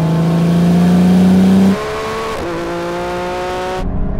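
Lamborghini Revuelto and Ferrari 296 and SF90 supercars accelerate hard in a rolling half-mile drag race, a loud continuous engine roar climbing in pitch through several gear changes before cutting off abruptly near the end.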